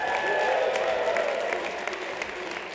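An audience at a ski speaker-series event applauds, with loud dense clapping that starts strong and then gradually thins out.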